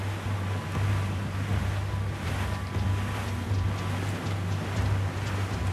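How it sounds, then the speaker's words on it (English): Ocean waves wash and roll under steady wind in Assassin's Creed 4 Black Flag, a continuous sea wash with a low engine-like hum running beneath, moderately loud and without any talking. "I find a bracing comfort in the feel and smell of the ocean"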